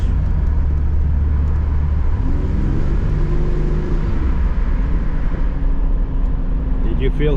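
A 112-horsepower car engine, heard from inside the cabin, drones loudly and steadily with a low rumbling roar as it accelerates, rising slightly in pitch midway, continuous throughout.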